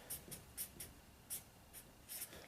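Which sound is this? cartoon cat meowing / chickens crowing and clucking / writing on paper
writing on paper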